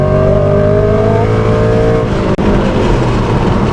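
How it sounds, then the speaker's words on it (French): A 340 hp Audi S6 C5 V8 revs hard, a loud, close engine roar climbing in pitch and then dropping as it comes off the throttle, with a brief gap before the note settles back. "ça reste quand même un V8 qui monte à 7000 tours"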